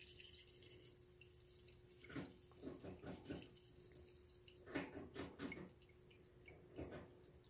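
Oil drips from the filter canister of a WW2 Willys MB or Ford GPW jeep, heard as faint, close, irregular clusters of small drops over a low steady hum.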